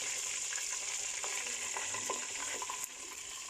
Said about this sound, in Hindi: चॉप किया हुआ लहसुन, इसको हमने सिर्फ 2 मिनट हमने इसको भूनना है